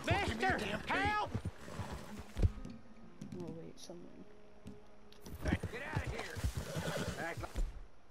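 A horse in the Western video game Red Dead Redemption whinnies and snorts as hooves clop, with a person talking over it before and after the neigh.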